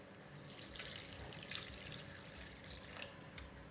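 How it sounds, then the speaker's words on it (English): Water from a tap pouring into a pot of roasted butternut soup, a soft steady trickle with faint splashy bursts, close but quiet and alone. "so I'm going to add water"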